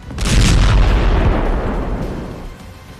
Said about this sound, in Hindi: गाजा पर लगातार एयर स्ट्राइक हो रही है, ग्राउंड पर बम के गोले गिर रहे हैं